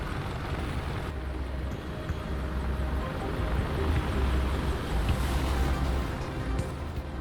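An AH-64D Apache helicopter in the DCS World flight game flies past 70 knots, a steady, dense rotor and turbine roar that holds loud and unbroken throughout.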